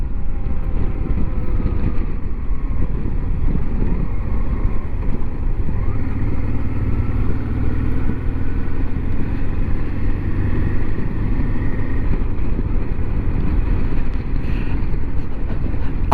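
Honda Transalp motorcycle on an evening ride, its engine a steady loud rumble mixed with heavy wind roar throughout, no speech.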